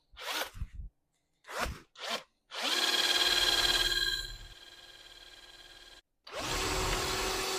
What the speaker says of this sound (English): So being aluminium, it's drilled really quite easily.